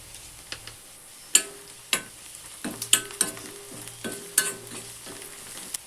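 Chopped onion sautés in hot oil in a pan for kanda poha, a soft sizzle broken by the scrape and clack of a spoon stirring in irregular bursts, close by and with no voices.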